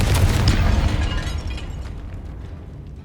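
Magic blast spells erupting in the Hogwarts Legacy video game, a loud close explosion with a deep booming rumble and crackling debris that gradually fades away.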